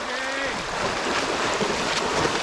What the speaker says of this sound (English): And so we passed through a creek.